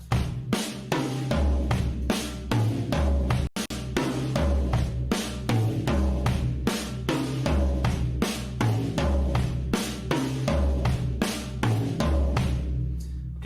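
A drum kit plays a steady repeating groove, crisp hits on cymbals and snare over kick, looping evenly and closely miked.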